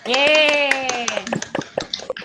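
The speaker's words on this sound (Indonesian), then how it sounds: "Tepuk tangannya dulu" Rapid, irregular hand claps from a class ring out as a teacher calls out over them, the clapping continuing in quick bursts after the voice stops.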